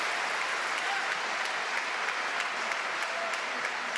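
Crowd at a world table tennis championship match in Germany applauds after a rally, a steady wash of clapping at moderate distance throughout, faint voices mixed in.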